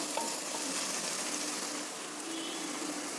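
Dill leaves sizzling steadily in plain oil with no water added, cooking down for a dill rice dish; a constant close, even frying hiss with faint stirring and no voices.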